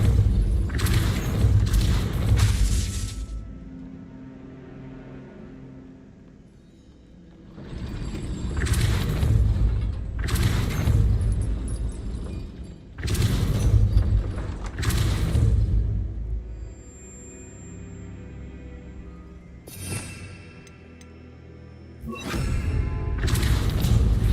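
Glacius and Depulso spells cast in the Hogwarts Legacy video game, a series of heavy booming blasts and thuds with whooshing rumble, loud bursts separated by quieter gaps, no speech.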